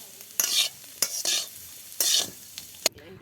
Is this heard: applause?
no